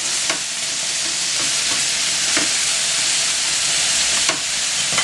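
Mussels stirred quickly on a hot plancha, a steady loud sizzle and frying hiss throughout with brief scraping stirs breaking through at intervals.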